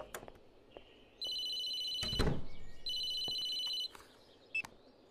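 A telephone rings twice in short electronic bursts, each lasting about a second, heard fairly close in a quiet room with a few knocks and thumps around it and no one speaking.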